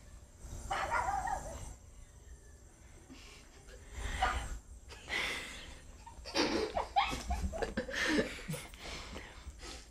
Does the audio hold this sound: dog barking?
yes